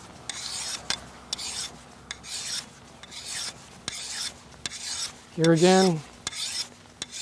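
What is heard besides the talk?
sharpening a blade edge, removing the burr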